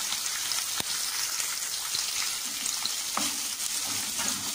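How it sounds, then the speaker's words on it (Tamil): Onions and green chillies sautéing in a pan for chicken salna, a dense continuous sizzle close up, with occasional soft knocks from stirring. "போட்டு வெங்காயம் நல்லா வந்து வதங்கட்டும்."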